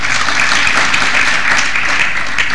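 Audience applause at a ceremony held by the Pt. Todarmal Smarak Trust, a dense, steady wash of many hands clapping at close range, holding evenly for a few seconds without voices.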